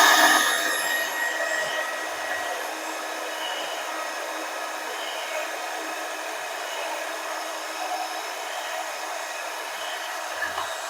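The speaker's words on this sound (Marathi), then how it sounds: "आता ह्याच्यामध्ये आपण अर्धी वाटी एवढं दूध टाकूयात आणि परत एकदा हा बीटर ह्याच्यामध्ये फिरवायचा." An electric beater whirs steadily through karanji dough with milk. The high-pitched motor drone is a bit louder at the start, then holds an even, continuous level with no voices.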